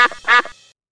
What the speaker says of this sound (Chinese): 门前大桥下游过一群鸭